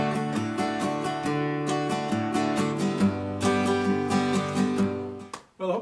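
Acoustic guitar strummed in a bass-down-up, bass-up-down-up pattern for a song, with rhythmic chord strokes over alternating bass notes, played alone and close.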